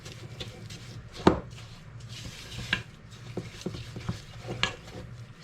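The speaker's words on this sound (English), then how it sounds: "You want to stir it around at this point to make sure everything is incorporated" Quiet scraping and tapping of a spoon stirring a thick molasses and butter mixture for fig bars, irregular strokes with a few sharper knocks against the bowl, close up and alone.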